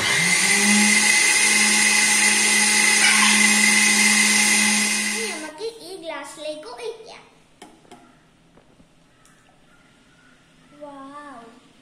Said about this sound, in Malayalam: നമുക്ക് ഇത് എല്ലാം കൂടി അടിച്ചെടുത്ത് വരാം. ഈ മിക്സി ഇട്ട്